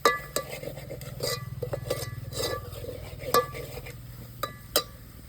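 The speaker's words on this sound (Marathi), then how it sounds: "सारखं हलवीत राहायचं, हलवलं म्हणजे खाली लागत नाही." Coconut masala paste for mutton is stirred in a pot over a wood-fired stove. A steady scraping and stirring is punctuated by light clinks of the spoon against the metal.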